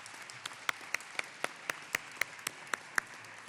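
Sparse, fading applause closing a conference panel: a handful of distinct claps ring out at a slow, fairly regular pace, moderately close, over a quiet room background.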